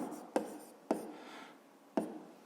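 Handwriting on paper while working a school maths exercise, three short scratchy pen strokes, each a quick attack fading away, close and quiet.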